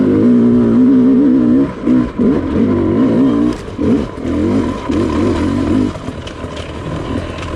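A Sherco dirt bike engine lugs in third gear up a hill, a loud, close, low droning growl that surges and dips unevenly as the rider strains up the slope.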